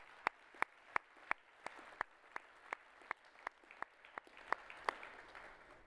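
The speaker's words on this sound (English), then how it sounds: "Please join with me and clap like you don't need your hands for the next few days" Steady applause from a conference audience thanking sponsors, with sharp, distinct individual claps standing out over a continuous patter, fairly faint and distant, with no talk.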